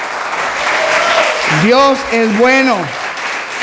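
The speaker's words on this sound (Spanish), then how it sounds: "Denle un aplauso al Señor." A church congregation applauds the Lord during a Spanish-language sermon on faith, a steady bed of clapping while a voice speaks loudly over the middle of it.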